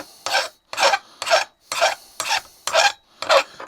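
Rasping strokes smooth the sharp edges of a metal round for a kitchen bench, about eight close, evenly spaced passes with brief gaps between them and no talking.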